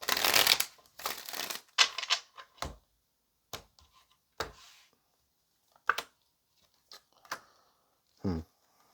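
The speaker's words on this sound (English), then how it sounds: "One more shuffle." A deck of tarot cards is shuffled up close in a quiet room: a quick riffling burst at first, then a series of separate soft card slaps and snaps with pauses between them.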